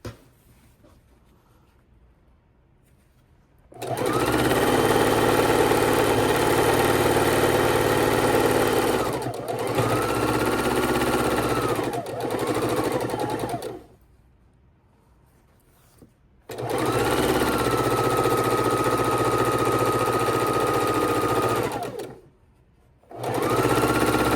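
Sewing machine stitching the border of a quilted table runner, running in three long continuous bursts separated by short pauses, loud and close with no talking.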